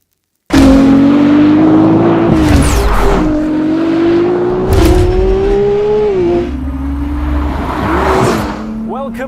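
Ferrari 296 GTS engine drives past loud and close, a sustained strained tone rising and falling through gear changes with bursts of revving, under no talk.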